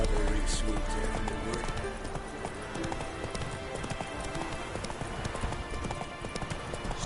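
Roach the horse gallops in The Witcher game, hooves clip-clopping rapidly and steadily close by, with faint whinnies and game ambience underneath.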